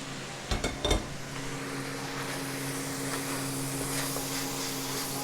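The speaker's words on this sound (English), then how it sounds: "Give it a good stir up." Vegetables sizzling in a hot pan for a Thai pad kra pao, a couple of quick clattering stirs at the start and then a steady, even hiss of frying, close and with no voices.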